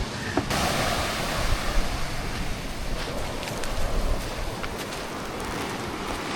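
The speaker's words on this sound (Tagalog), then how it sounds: "Malalaki pa rin po yung alon eh." Big ocean waves surge and wash continuously on a Philippine shore near a moored boat, a loud, close roar of surf with crashing swells and no talking.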